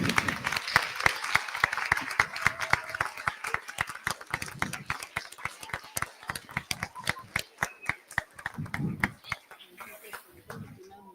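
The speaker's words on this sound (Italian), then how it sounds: "Facciamo ancora un applauso." Scattered clapping from a small group at a theatre awards ceremony, sharp individual claps tapering off, with voices talking over and after it.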